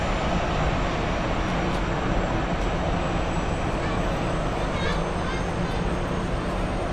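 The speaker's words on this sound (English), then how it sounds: "A321 Swiss." Swiss Airbus A321 airliner on the runway at Zurich Airport, a steady broadband jet roar heard from a distance, constant and unbroken throughout.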